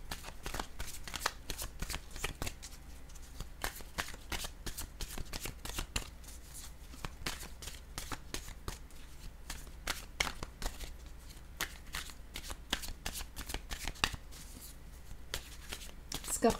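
A deck of tarot cards is shuffled by hand before one is drawn, with a steady run of soft, rapid riffling and flicking snaps that continue close by for the whole stretch.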